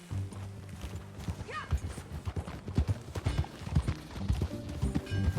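Horse hooves clip-clop at a steady walking pace in Red Dead Redemption 2, the game's riding sounds mixed with faint background noise and talk.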